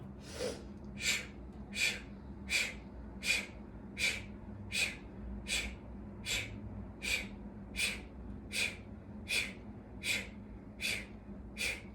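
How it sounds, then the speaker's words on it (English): Forceful Bhastrika yoga breathing: about fifteen sharp, evenly spaced breaths pump in and out through the nose in a steady rhythm, close and fairly quiet, with no talking. "Let's do some Bhastrika breath"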